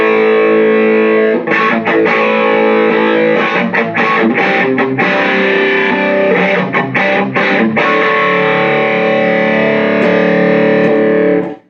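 An electric guitar runs through the distortion channel of a Friedman BE-50 amp, playing loud, sustained, heavily overdriven chords with rhythmic choppy breaks and a dense saturated tone that lasts the whole stretch.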